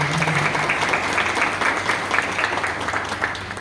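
Audience applause at an academic book presentation, a dense, steady round of clapping from many hands that fills the room throughout, with a little talk faintly underneath.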